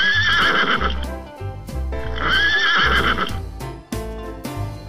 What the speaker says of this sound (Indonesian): Lihat teman-teman, ada kuda warna coklat.